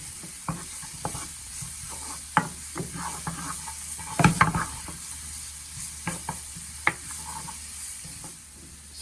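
Szechuan sauce ingredients cook in a pan with a soft sizzle as a utensil stirs and scrapes, giving irregular clicks and scrapes and one louder clatter burst midway.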